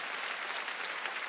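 Church congregation applauding during a Wednesday worship service, a steady dense wash of clapping that runs evenly for the whole short stretch with no voices above it.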